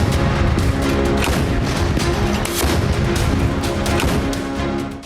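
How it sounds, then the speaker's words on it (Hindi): A bridge is blown up by explosives in wartime fighting in the Kursk region, a loud, sustained roar of blasts and rumbling detonations that persists without letup. "सामने के पुल को विस्फोट से उड़ा दिया"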